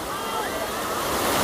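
A steady, close rush of surf washing continuously onto the shore at Hat Nam Sai beach, Sattahip, Thailand.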